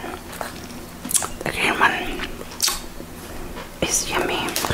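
Warheads sour chewy cube candy is chewed close to the microphone, with soft, sticky mouth clicks and smacks in an irregular rhythm and faint whispering breaths between bites.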